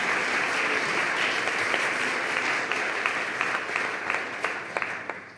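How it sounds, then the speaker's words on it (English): Audience applause for a speaker at a talk on microdosing psychedelics for ADHD, a steady dense wash of clapping that holds for several seconds, with a few sharper individual claps rising toward the end. "Please give another round of applause to Iva"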